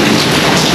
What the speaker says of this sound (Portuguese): Começa agora a chover